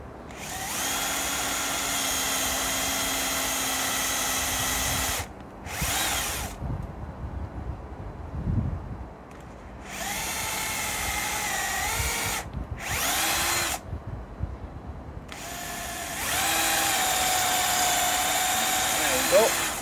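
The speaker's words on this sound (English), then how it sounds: "I'm just going to drill straight down and make my pilot hole" A power drill whirs loudly in several bursts of a few seconds each, drilling pilot holes for a compost sifter, separated by quiet pauses with faint background noise.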